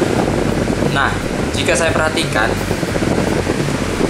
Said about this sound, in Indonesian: Dan ini adalah kecepatan speed 1 dari kipas angin.